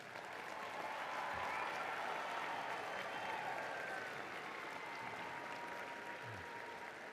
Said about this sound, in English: Graduates, one more applause.